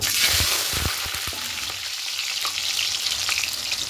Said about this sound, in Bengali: তেলটা গরম হয়ে এসেছে। এবার এখানে আলুর টুকরোগুলো দিয়ে দেব